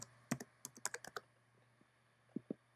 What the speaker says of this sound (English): if I type in, and if I can remember my Yahoo password